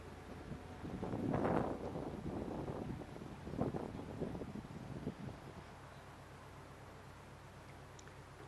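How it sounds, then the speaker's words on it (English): Gusting wind buffets the microphone in loud rumbling swells that rise and fall over several seconds, then eases to a lower steady background while a vehicle reverses carefully. "Did I mention the gusting wind?"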